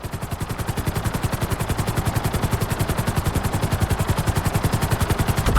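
A helicopter in GTA 5 flies at full speed, its rotor chopping in a fast, even, rapid pulse that stays loud and close throughout, with no talk.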